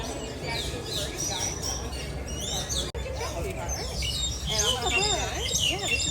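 A bird chirps and tweets repeatedly in bright, rapid phrases at Animal Kingdom, heard over a steady outdoor crowd murmur with people talking nearby.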